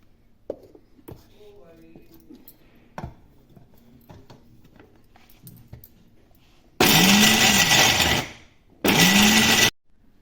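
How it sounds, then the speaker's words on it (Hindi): Electric grinder grinding fox nuts (makhana) for laddu: two loud, whirring bursts of a few seconds each near the end, after quiet handling clicks and taps. "हमने मखाने पीसने हैं, काजू पीसने हैं और बादाम पीसने हैं"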